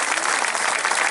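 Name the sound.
audience applause at live concert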